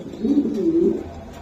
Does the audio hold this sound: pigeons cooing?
yes